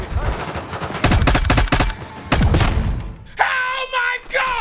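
Gunfire in Black Ops 6, several bursts of loud close-range automatic shots with heavy impacts, followed by a ringing, sharper tail at the end and speech in between.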